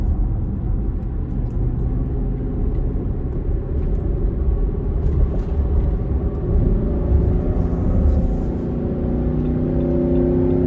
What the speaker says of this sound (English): Now I'm getting on the on-ramp to go up the hill, so that's usually what I do when I'm trying to test acceleration, throttle response, all that.